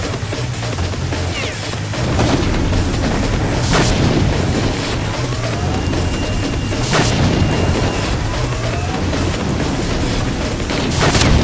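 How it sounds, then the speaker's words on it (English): Rifle gunfire in the S.T.A.L.K.E.R. video game during a boss fight, heard as several sharp, loud shots and booming impacts spaced across a dense, continuous battle din with no talking. "Rifle at Strelok to weaken his side protection."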